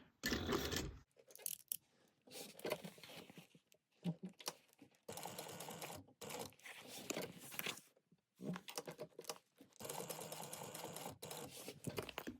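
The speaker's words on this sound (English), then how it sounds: "you're just going to sew your tabs on at 1/8 of an inch" Sewing machine stitching tabs onto a crossbody bag, running in several bursts of rapid mechanical chatter separated by short pauses, close and fairly loud with no talking.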